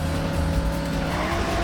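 Race car tires squeal and skid in the Daytona USA video game on Sega Saturn, a loud continuous screech layered over steady engine roar for under two seconds, with no talking.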